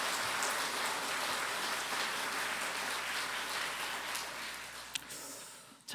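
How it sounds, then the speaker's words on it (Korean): A church congregation applauding its choir after a Sunday service anthem, dense continuous clapping like heavy rain that carries on throughout and fades slightly near the end. "여러분 이번에 찬양대 수고한 우리 위에서 한 박수 한번 쳐주세요."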